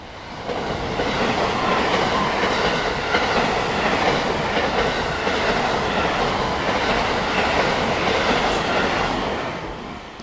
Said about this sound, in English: ShinKaisoku does not stop here, so it went right through